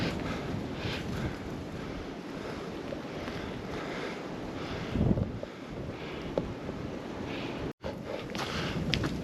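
Steady, moderate wind gusts hiss and roar through trees in wild weather after fallen limbs, with a muffled rumble of wind on the microphone and no voices.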